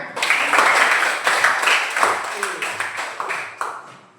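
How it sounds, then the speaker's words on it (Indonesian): Schoolchildren in an elementary classroom clap their hands together, a loud, close burst of uneven claps that thins into scattered individual claps toward the end, with voices mixed in. "Tepuk tangan untuk semuanya."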